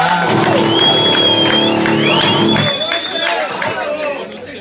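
A lively crowd at a metal gig in a bar cheers and claps, with whoops and shouted voices rising over the applause before it thins out toward the end.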